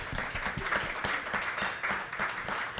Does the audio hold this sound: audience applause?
yes